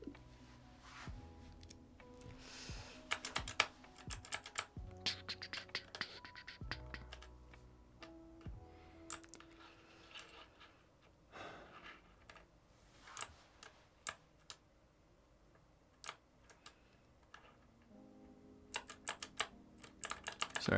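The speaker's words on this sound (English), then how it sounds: "just playing with my little keyboard clicking things" Close computer keyboard typing with quick irregular key clicks and occasional louder taps, running for a sustained stretch over a faint background tone, no voices.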